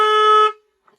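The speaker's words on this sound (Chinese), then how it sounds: "你按什么喇叭呀？" A single loud, steady car horn honk lasting about half a second, then cut off to near silence with a faint click after, heard at a roadside repair spot with a Panda car.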